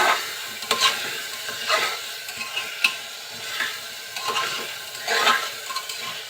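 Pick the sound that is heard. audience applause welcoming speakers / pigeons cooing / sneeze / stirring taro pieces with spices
stirring taro pieces with spices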